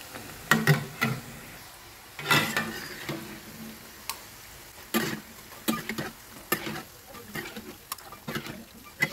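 Tempe snacks in batter frying in hot oil, with a steady crackling sizzle broken by repeated sharp taps and stirring clatters, close up and fairly quiet.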